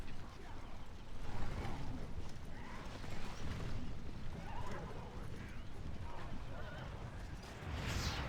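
Rohirrim cavalry horses trample through battle in the real-time strategy game The Battle for Middle-earth, a low, continuous rumble of hooves and clattering mixed with distant combat noise, fairly quiet throughout.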